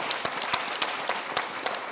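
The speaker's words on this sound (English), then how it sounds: "a round of applause for our first speaker" A round of applause from the audience at a panel discussion on European lifelong guidance, moderately loud clapping with a few sharper individual claps standing out, steady throughout and with no talking over it.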